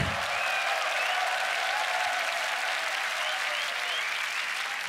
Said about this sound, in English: make some noise for Wand